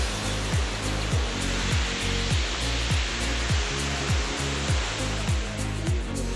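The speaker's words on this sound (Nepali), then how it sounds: "अहिले हामी झरनाको छेउमा छौँ।" Steady broadband roar of a waterfall near the road on the route to Muktinath in Mustang, Nepal, filling the clip continuously with a low rhythmic engine-like pulsing underneath, no talk.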